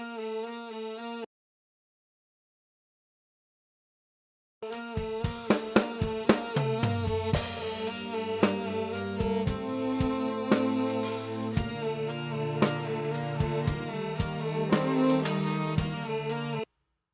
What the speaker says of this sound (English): So now my strings and my drums together sound like this.